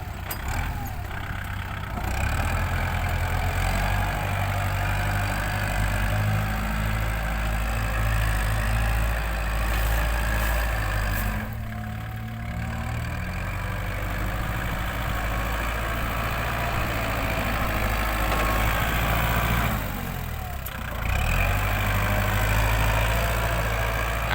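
A backhoe and trucks digging and dumping soil run steadily with a low engine rumble, briefly dropping in level twice before resuming, with no talking.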